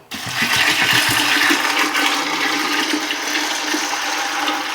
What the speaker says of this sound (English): Now I'm gonna add my water.